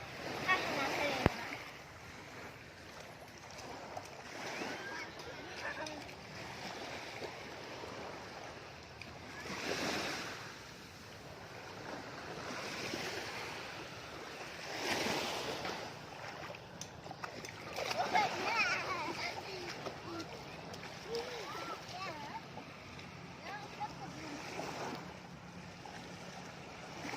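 Surf rolls onto Pattaya beach in repeated swells that rise and break every few seconds, with splashing nearby and voices talking over the steady roar of the sea.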